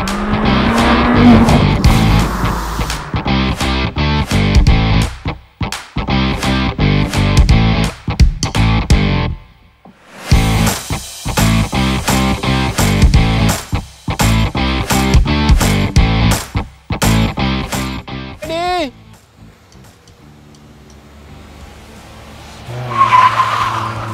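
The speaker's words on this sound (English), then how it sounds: "All of them are going to be drag raced for your pleasure." Cars at a Merdeka drag race, including a Myvi, KE70, BRZ, Impreza, BMW, Passat and S60, roar loudly through rising, stepped engine revs and gear changes, with brief tire noise, then fade before another car revs near the end.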